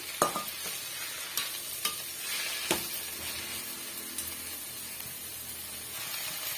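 Chutney ingredients stir-fried in a pan for a roadside-style chilli bajji chutney: a steady close sizzle with repeated spatula scrapes and stirring clicks, no voices.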